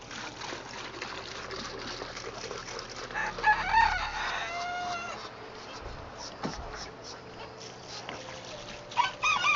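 Chickens clucking and a rooster crowing in a barn at feeding time, with busy overlapping clucks and calls throughout and a few louder bursts, close and lively, with some background noise.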